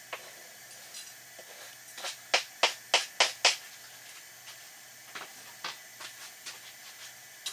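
Lightly salted pistachios being roughly chopped on a board, a quick burst of five or six sharp knife taps followed by a few fainter, scattered chops, close-up with no talking.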